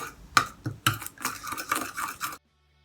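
A spoon stirs lemon juice into a face pack in a small bowl, making quick, close clinking and scraping strokes in an uneven rhythm that stop abruptly. No one talks.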